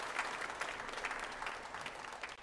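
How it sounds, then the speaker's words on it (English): A church congregation claps during a Sunday worship service, a steady, even patter of many hands heard from a distance in the sanctuary. "You can clap."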